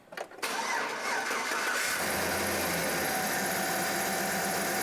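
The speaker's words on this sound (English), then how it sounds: "Then we'll go ahead and crank up the truck." A truck engine cranks with a spark plug wire disconnected, a brief starter whir followed by a steady, loud, continuous mechanical droning churn close by, with no voices.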